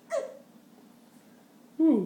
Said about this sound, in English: Nice hiccups